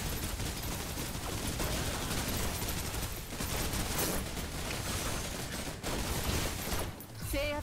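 Sustained gunfire from Snowbreak: Containment Zone, dense bursts of shots rattling almost continuously at steady loudness, briefly easing before resuming, with a short electronic tone sequence near the end.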